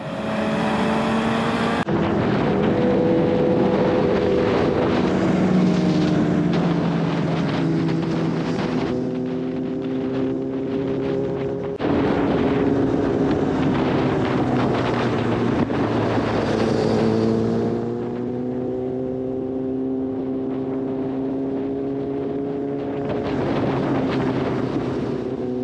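Kawasaki Ninja sport motorcycle riding through a city in the evening, its engine droning steadily with rising and falling pitch as it accelerates and shifts, heavy wind buffeting over the whole ride.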